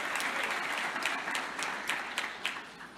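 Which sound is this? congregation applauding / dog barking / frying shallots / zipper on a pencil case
congregation applauding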